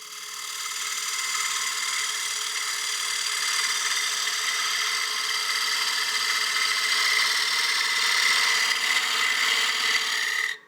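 A small woodturning gouge cuts a partially seasoned wooden bowl spinning on a lathe, making a steady, close, high-pitched hissing whir that holds evenly before stopping abruptly.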